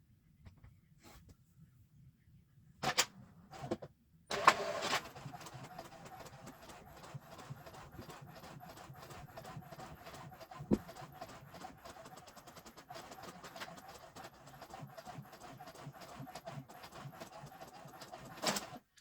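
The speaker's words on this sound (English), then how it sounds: "send to printer, preparing to print" A home inkjet printer feeds and prints a sheet of cardstock for a Cricut birthday box card, with a few sharp clicks, then a steady, faint mechanical whir and rapid rhythmic ticking.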